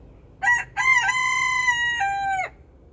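A rooster crows once, a loud, clear, drawn-out cock-a-doodle-doo close by with a short opening note.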